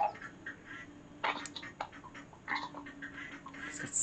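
A cartoon duck in the video game Little Kitty Big City quacks and chatters in quick, nasal bursts, repeated several times over a steady low background tone.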